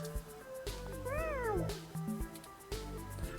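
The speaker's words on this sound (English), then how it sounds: "Oh, it actually mewed. Oh, expert meow." A cat meows in the video game 2064 Read Only Memories, one clear drawn-out mew rising and falling near the middle, set over steady game music and ambience.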